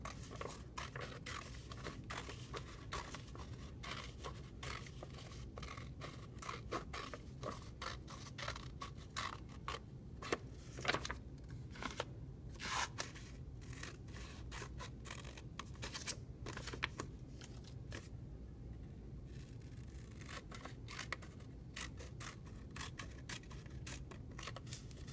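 Scissors snip steadily through paper while cutting out a fish shape, a long run of close, quiet, crisp cuts and rustles with brief pauses as the paper is turned.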